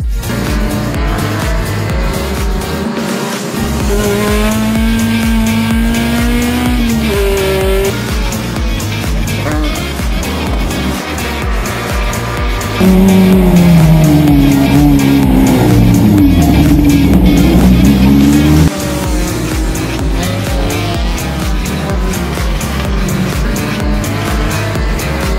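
A pack of Gol touring race cars roars around the Interlagos circuit, engines loud and sustained, revving up and down through gear changes with one car's note swelling close for several seconds before settling back into the pack.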